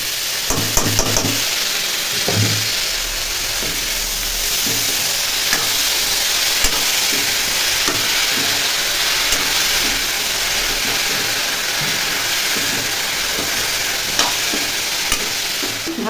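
Banana flower frying in a pan, a continuous loud sizzle and hiss with intermittent stirring scrapes across the whole stretch.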